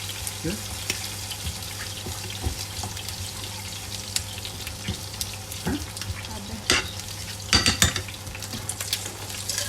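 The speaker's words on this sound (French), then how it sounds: "j'écrase mes tomates comme ceci" Tomatoes are pressed and stirred in a gently sizzling pan for tagliatelle with scampi, with soft intermittent scraping and squishing over a steady low hum.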